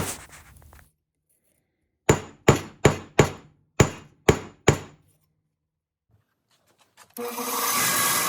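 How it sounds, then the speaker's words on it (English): Seven sharp hammer strikes on leather land in an even rhythm on a firm surface, flattening it, followed after a pause by a rough rushing noise. "a quick hammering to make sure that it lays flat."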